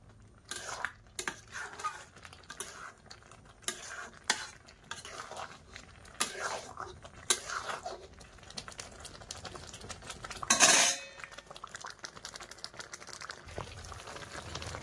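Mango pulp boiling in a pot for amsatto, stirred from a distance with a utensil, giving steady scraping and bubbling clatter throughout, with one brief louder clank near the end.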